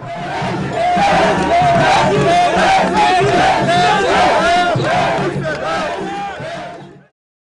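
A large crowd of the Guinean community in Abidjan shouts and cheers for visiting president Alpha Condé, a loud sustained roar of overlapping voices and whoops that cuts off abruptly at the end.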